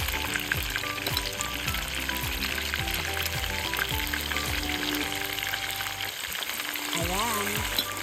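Croaker fish deep-fries in hot oil, a continuous bubbling crackle and sizzle that stays fairly even throughout, accompanied by melodic background tones.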